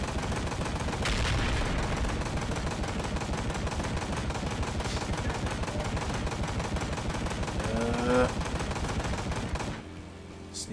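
Dense rapid gunfire rattles continuously in the Ride To Hell: Retribution video game as shots are fired at a fleeing driver, loud and sustained for most of the stretch before cutting off near the end.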